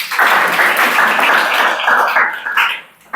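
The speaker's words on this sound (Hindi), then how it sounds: "ताली बजा दो।" A class of students applauding during a Chhattisgarh police recruitment quiz session: dense, steady clapping that stays loud for about three seconds, then thins and fades near the end.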